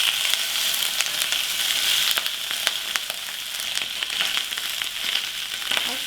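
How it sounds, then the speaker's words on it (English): Pork belly frying in oil for Sichuan twice-cooked pork, a dense continuous sizzle dotted with small crackling pops as the fat bursts; close and steady, without speech. "Now you can see the fat is being cooked in the oil, and sometimes it will create this bursting sound"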